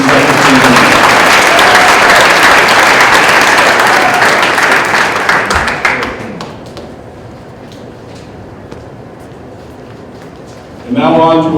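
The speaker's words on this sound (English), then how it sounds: "One more round of applause for our CBC second team." Loud audience applause at a high school winter sports awards ceremony fills the first six seconds, then fades to scattered claps and room noise before a brief fresh burst of clapping at the end.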